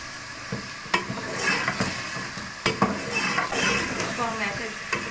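Bone-in chicken frying in a karahi with garlic-ginger paste, giving a steady close sizzle broken by repeated scraping stirs and a few sharp metallic knocks against the pan, with no talk.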